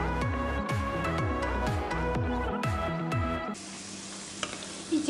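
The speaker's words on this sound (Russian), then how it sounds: "И уже достаточно у меня обжарилось. Морковь с луком." Carrots and onion fry in a pan with tomato paste, a steady broadband sizzle under tonal sliding sounds that fade out, leaving the sizzle alone near the end with a few light clicks.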